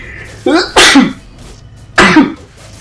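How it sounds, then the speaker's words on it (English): A single sharp sneeze with a quick inhaled buildup, then a second burst a moment later, close and loud, no talking. "Oh god, I feel a sneeze."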